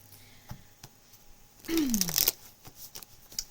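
A deck of tarot cards riffled in one quick burst, crisp fluttering rasp lasting under a second, framed by a few soft taps and handling noises.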